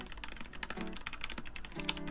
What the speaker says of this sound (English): If you're typing generally, I do like how the MX Browns feels